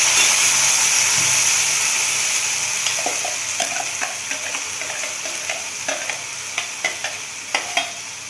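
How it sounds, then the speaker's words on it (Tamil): Thick ground spice paste with garlic and ginger sizzling and frying in a hot pan, with steady hiss and scattered crackles as it is stirred, growing more spattery toward the end. "இப்போ இதில் இந்த அரைச்ச விழுதை கொட்டி நல்லா வதக்கணும்"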